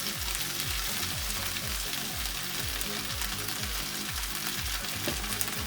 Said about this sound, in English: We are not cooking this bhindi thoroughly, just going to saute it until the color turns slight brown.